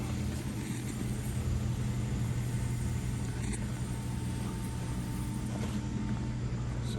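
A resaw bandsaw wheel spins after the brass tension bolt is tightened, making a steady, continuous low mechanical rumble and hum at even loudness throughout, with no talking.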